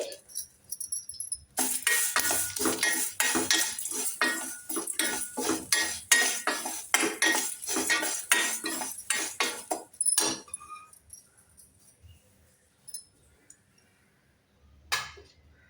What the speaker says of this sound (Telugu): ఇప్పుడంతా కొంచెము ఫ్రై చేసుకోవాలి ఇలాగా